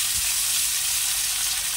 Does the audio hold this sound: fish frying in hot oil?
yes